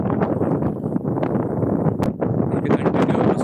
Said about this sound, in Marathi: इथे कंटिन्यू असा वारा वाहतो.